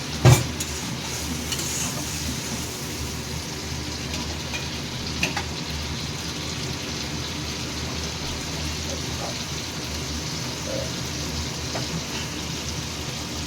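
Spice masala frying in a pot for prawn biryani makes a soft, continuous crackling sizzle, fairly quiet, with a light clink near the start and no talk.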